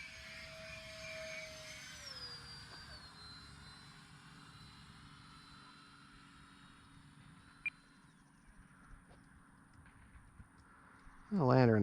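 An E-flite Habu RC jet passes overhead, its turbine-like whine falling steadily in pitch as it slows down and fades, with a steady outdoor hiss and a sudden loud thump at the very end.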